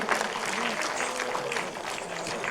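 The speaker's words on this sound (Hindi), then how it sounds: "ऑडियंस थक गए मैम बोल रही है ताली बजाते बजाते।" An audience at a 2017 album launch and annual event claps steadily and continuously, a dense patter of applause with a faint voice underneath.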